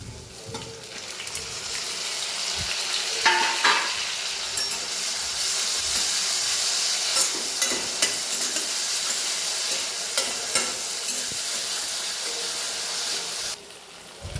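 Tomatoes fry with curry leaves and onion in a pan, giving a loud, steady broadband sizzle with scattered stirring clicks throughout, and no talking.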